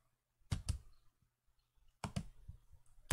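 Mouse buttons clicking in FreeCAD while components of a 3D model are rearranged, two quick double-clicks near the start and another pair about a second and a half later, crisp and close with quiet gaps between.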